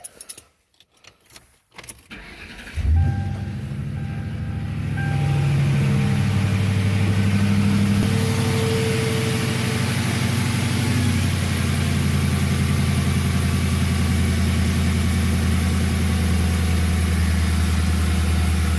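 A Ford Crown Victoria with a newly installed throttle body cranks for a couple of seconds, catches, and settles into a loud, steady idle that holds without speech.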